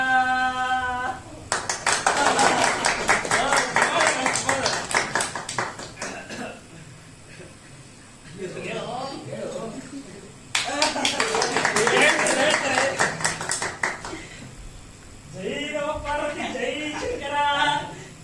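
An audience claps at a folk-style comedy harikatha performance. Two bursts of rhythmic clapping blend with loud singing voices and music, separated by a quieter stretch of talk.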